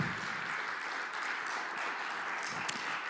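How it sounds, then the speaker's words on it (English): A steady, moderately loud round of clapping from the audience at a TEDx BellarmineU event, sustained evenly for a few seconds with no voices over it. "Everybody give one more round of applause for Anne."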